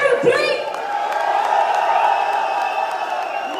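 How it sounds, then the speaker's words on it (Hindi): A large crowd at a live gathering roars with loud sustained cheering and shouting mixed with clapping, a dense wall of voices holding steady for a few seconds. "चलिए तालियों के साथ एक बार शोर भी बजा देते हैं।"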